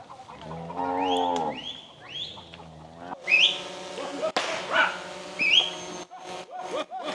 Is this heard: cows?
yes